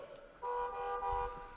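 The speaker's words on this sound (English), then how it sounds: "And it does honk, and it stops honking." Small toy car on a mobile robot platform honking in a steady, clear tone that starts, holds for about a second and then stops.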